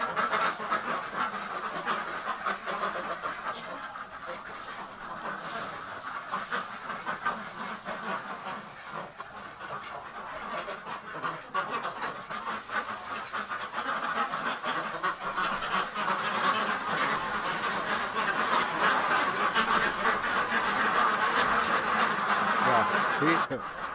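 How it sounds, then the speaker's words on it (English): Ducks quack in a crowded duck barn, a constant loud chorus of overlapping calls echoing around the enclosed space for the full stretch. "That's how the ducks are freaking."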